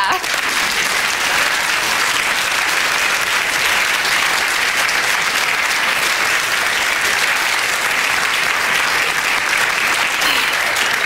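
Steady, dense applause from a large audience at a Slovak televised star-duet contest, greeting the group Bukvica as they come out, loud and sustained throughout with no break.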